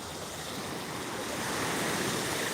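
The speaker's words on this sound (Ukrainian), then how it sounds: "літом таких хвиль нема. І такого припливу теж" Big sea waves and a high tide wash ashore in a continuous, dense roar of surf. The sound is close and steady and builds slightly toward the end, with no voices.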